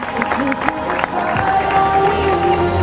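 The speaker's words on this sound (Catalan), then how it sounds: "Fort aplaudiment per ells" Crowd at a rally award ceremony in Lloret de Mar clapping and cheering, a busy mix of applause and voices with an announcer's amplified talk and background music running through it.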